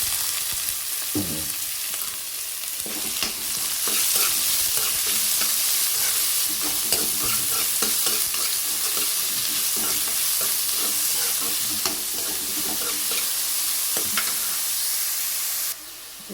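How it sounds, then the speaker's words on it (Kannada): Chopped onion, green chilli and curry leaves fry in hot oil with a constant, bright sizzle while being stirred, and scrapes and clinks ring out close by throughout. "ಈರುಳ್ಳಿ ಮತ್ತು ಹಸಿಮೆಣಸಿನ್ಕಾಯಿ, ಕರಿಬೇವಿನ ಸೊಪ್ಪು ಎಲ್ಲ ಚಾಪ್ ಮಾಡಿರೋದು ಹಾಕೋದು."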